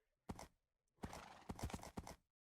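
Two short bursts of hollow horse hoof clip-clops from a Minecraft horse, with a single thump followed by a quick rhythmic run of several steps. The sounds are clear and close over silence.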